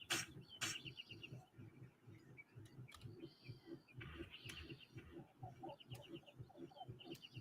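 Bird chirps and clucking calls repeat over a steady rhythmic background, with a few sharper high calls standing out now and then.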